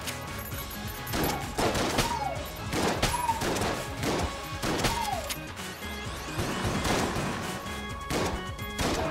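Enter the Gungeon gameplay with repeated bursts of cartoonish gunfire and impact crashes, irregular volleys over layered game sounds and music, moderately loud.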